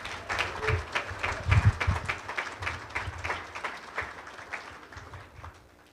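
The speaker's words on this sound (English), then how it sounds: "Let's give all of our speakers another round of applause," Audience clapping for the speakers at a cyber warfare range event, a sparse, uneven round of individual claps with a few louder bursts, fading toward the end.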